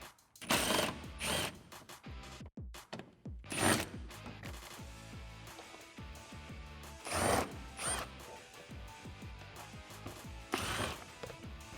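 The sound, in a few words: ratchet removing bolts from Tacoma air dam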